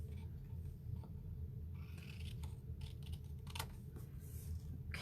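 Sharp pointed scissors snip through paper during a gift bag papercraft project, several short crisp cuts at irregular intervals over a low steady background hum.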